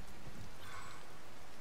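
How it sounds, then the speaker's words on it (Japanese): Steady rainfall in the video game Zelda: Tears of the Kingdom, an even, continuous hiss of rain with no breaks. "ただこんだけずっと雨降られると困るね"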